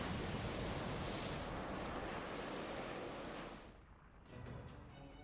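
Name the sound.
seawater rushing in, from video game Fate/Grand Order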